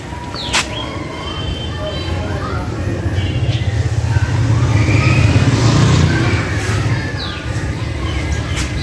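A motorcycle engine rumbles steadily nearby, swelling louder in the middle and then easing, with faint hiss and clatter around it.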